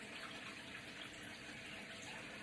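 Hot water from a tap runs steadily into a bathroom sink, a soft, even hiss and splash that continues without a break and without any voices.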